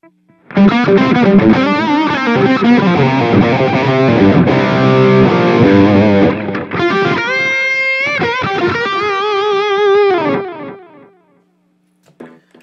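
An electric guitar played through a Line 6 Helix into a PA, loud distorted chords and sustained notes with effects, ringing out for about ten seconds before fading to silence.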